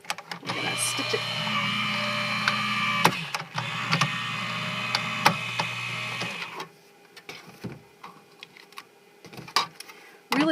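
A die-cutting machine runs steadily with a loud mechanical hum and clatter for about six seconds while stitching an oval card piece, then stops, leaving scattered handling clicks.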